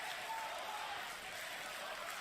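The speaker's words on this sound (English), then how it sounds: "You hear the crowd very, very happy here." A large crowd at The International Dota 2 tournament cheers and applauds in a continuous distant roar, a diffuse wash of clapping and voices that stays steady and fairly faint throughout.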